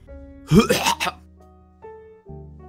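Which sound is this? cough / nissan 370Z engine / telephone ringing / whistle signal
cough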